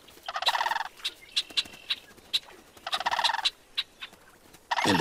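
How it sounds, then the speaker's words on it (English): A red-winged blackbird calls in Yellowstone, sending out repeated buzzy trills and sharp, short chips in an uneven rhythm, clear and fairly close against quiet outdoor background. "The red-winged blackbird is fiercely territorial."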